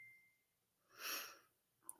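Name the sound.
sneeze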